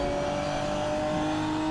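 A Ginetta SuperCup race car in Assetto Corsa accelerates hard, its loud engine note rising steadily over a short burst and heard close with no voices.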